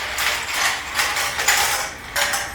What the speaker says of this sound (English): Now we're going to slide them out to our colander.